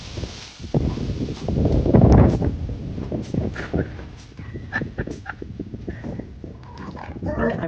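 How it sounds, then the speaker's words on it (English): Dogs play outdoors on a sunny day in Klamath Falls, Oregon, near an RV. Scattered close barks and whimpers mix with rustling and movement noise throughout. "the dogs are out here playing."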